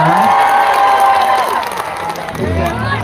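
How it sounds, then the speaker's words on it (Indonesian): A loud crowd at an outdoor public gathering in Indramayu, West Java, claps and cheers continuously, voices shouting over the applause and swelling again near the end. "Yang sebelah sini tepuk tangannya mana?"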